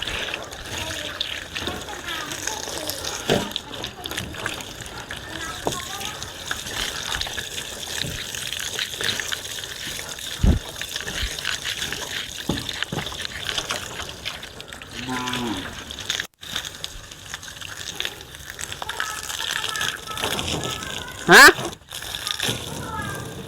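Water sprays steadily from a hose while a car is washed, a continuous broadband hiss lasting throughout at moderate level, with people talking over it at times.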